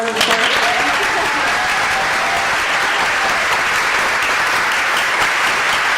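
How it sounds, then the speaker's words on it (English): Sustained audience applause fills a room at a poetry celebration for a new collection of poems, steady dense clapping from a crowd throughout, close and loud with no break. "Please, another round of applause."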